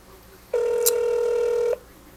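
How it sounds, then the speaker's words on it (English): A phone line rings while a call to AOL customer support waits to connect: a single steady ringback tone of about one second, clear and fairly loud, with no one talking over it. "Come on, AOL, pick up the phone, man."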